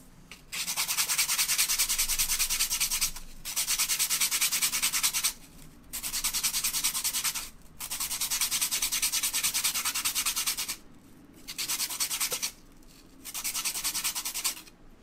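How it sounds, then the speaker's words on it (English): A charcoal drawing stick for a still life is rubbed to a point against an abrasive, making a harsh, close scratching in six sustained strokes separated by short pauses, with no voices. "Might need to sharpen my charcoal a little bit."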